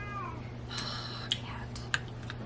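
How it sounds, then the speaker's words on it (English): A house cat meows indoors, two or three short, fairly close calls over steady background hum, with faint talk nearby. "Okay. Cat."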